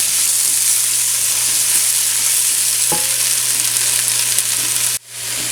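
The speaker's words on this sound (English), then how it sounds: "Then you add in your green peppers and saute until soft." Green peppers and other vegetables sauté in a hot pan with a loud, steady sizzle. A single stir knocks against the pan midway, and the sound cuts off abruptly near the end.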